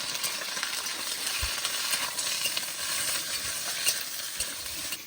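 Potatoes frying in hot oil with green chillies and onion, a steady dense sizzle throughout with occasional stirring clinks, close and alone without talk.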